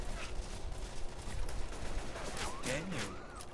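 Rapid gunfire rattles in the zombie shooter Left 4 Dead 2, a continuous spray of sharp cracks with game effects and a voice talking over it.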